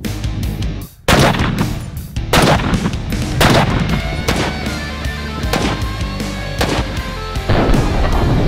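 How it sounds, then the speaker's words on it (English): A NEMO Arms Omen .300 Win Mag semi-automatic rifle fires a rapid string of very loud, booming shots, roughly one per second, each blast ringing out and overlapping with the echo of the last. "Let's see what I can do with semi-automatic rate of fire"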